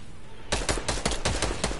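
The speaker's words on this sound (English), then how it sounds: "there's a guy sniping!" Rapid bursts of sniper gunfire in a building-and-shooting video game played on PC: about eight sharp, loud cracks arrive in quick succession after a brief quiet lead-in.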